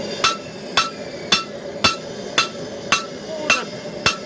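A knife tang is hammered on the horn of an anvil during forging: eight sharp, ringing metallic strikes land at an even, steady rhythm, close and loud.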